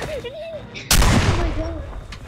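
Gunshot in a video game, one loud sharp blast cutting in near the middle and decaying through a noisy tail, with voices talking before and after it.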